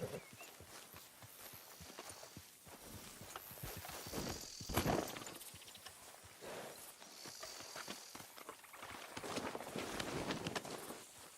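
Horse hooves clip-clop at a steady walking pace in Red Dead Redemption 2, with scattered outdoor game ambience around them and no voices.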